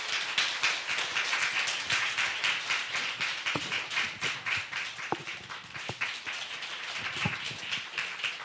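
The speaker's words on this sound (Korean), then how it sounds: "박수로 맞아주세요." Audience clapping at a Korean humanities arts concert as a speaker is welcomed, dense rhythmic claps from a modest crowd, fairly close, continuing steadily with a few sharper individual claps standing out.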